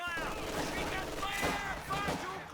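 A coordinated artillery strike in Company of Heroes 2 sends repeated booming blasts and rumbling gunfire through a multiplayer battle, with a commentator's voice running over the explosions.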